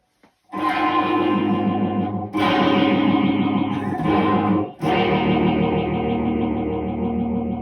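A heavily processed electric guitar through an effects pedal with all knobs at maximum, distorted and washed in echo and chorus, strums sustained chords that ring out across several loud attacks.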